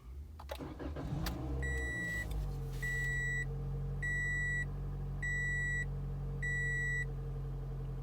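2017 Toyota Corolla iM hatchback being switched on: a brief starting rumble, then a steady engine drone under five evenly spaced electronic dashboard chimes, close and distinct, no talk.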